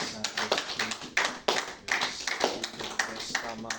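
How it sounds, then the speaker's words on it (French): A church congregation claps irregularly, scattered sharp hand claps rising and falling together, with voices mixed in beneath. "Est-ce que nous pouvons applaudir le Saint-Esprit?"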